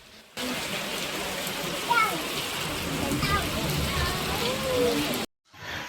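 Heavy rain pours steadily with rushing floodwater over fields near an opened dam, a dense continuous wash of noise that cuts off abruptly near the end, with faint voices beneath.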